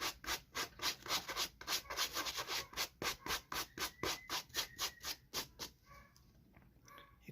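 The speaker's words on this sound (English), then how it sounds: "First step, hard bristle brush on the suede." A hard bristle brush scrubs the dirty suede of a World Balance sneaker in quick, rhythmic strokes, about three per second, each a crisp close scratch; the scrubbing stops near the end, leaving faint quieter brushing.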